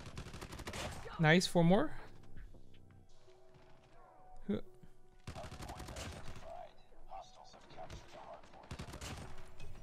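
Call of Duty Mobile match with a Damascus AGR assault rifle built like a light machine gun, quick bursts of game gunfire and hit effects in several clusters under a player's talking.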